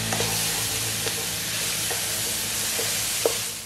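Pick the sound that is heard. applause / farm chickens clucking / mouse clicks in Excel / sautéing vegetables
sautéing vegetables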